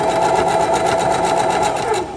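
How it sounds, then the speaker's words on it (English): A sewing machine stitches fabric at a corner, its needle running in a steady, fast, even chatter at close range throughout. "we're going to pivot the fabric, and then lower the presser foot again and continue sewing"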